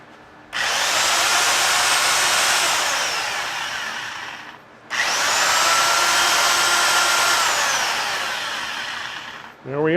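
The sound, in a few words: Dewalt DW130 drill running forward and reverse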